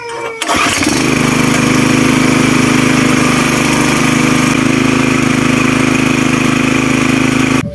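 A 6.5 hp Ichiban gasoline water pump engine sputters to life after a brief pull, then runs loud and steady with a constant droning hum.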